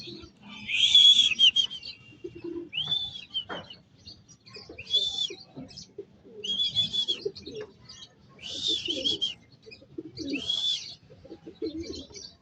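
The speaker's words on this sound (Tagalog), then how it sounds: "Yun, ang daming ibon oh, mga kaibon." Racing pigeons and other birds coo and chirp during a training session in Lucena City. Six or so separate call bursts come close together in a loose rhythm, with quiet gaps between them.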